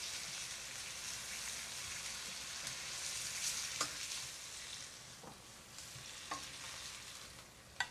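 Meat sears in a pan over high heat with a steady low sizzle and hiss, broken by occasional clicks and scrapes of stirring, all soft and without voices.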